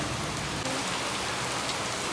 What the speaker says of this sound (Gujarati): બહુ જોરદાર વરસાદ આવે